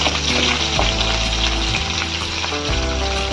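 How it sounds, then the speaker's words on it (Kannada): Curry leaves and green chillies frying in hot oil after mustard seeds pop: a loud, dense, continuous sizzle close by, with no voices. "ಸಿಡಿದ ನಂತರ ಸ್ವಲ್ಪ ಕರಿಬೇವಿನ ಸೊಪ್ಪು ಮತ್ತು ಹಸಿಮೆಣಸಿನ್ಕಾಯಿ ಕಟ್ ಮಾಡಿಟ್ಕೊಂಡು ಚೆನ್ನಾಗಿ ಸ್ವಲ್ಪ ಫ್ರೈ ಮಾಡ್ಕೊಳ್ಳೋಣ"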